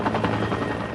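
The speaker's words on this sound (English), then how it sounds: "The helicopter was hovering about eye level with us" A utility helicopter hovers at about eye level over a flood-damaged area near Lake Lure after a hurricane, its loud, close rotor thumping and turbine roar filling the whole moment without any talk.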